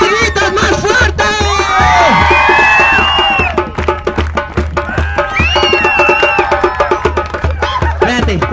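A children's clown show audience shouts and cheers, loud rising group yells swelling as a club is thrown higher, with a steady low hum underneath and excited voices overlapping throughout.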